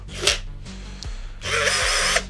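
A five-year-old Procraft PA212 cordless screwdriver whirs in short, loud bursts while driving a screw, its motor rising and stopping several times up close with no speech.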